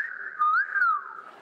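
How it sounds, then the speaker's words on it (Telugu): A person whistles on a comedy celebrity talk show stage. It is one short, clear whistled tone that slides up, breaks, then glides back down, heard alone and close. "మీరు వేసిన విజిల్ ఇది ఒక అందమైన అమ్మాయిని చూస్తే వేయాలనిపిస్తుంది కదా"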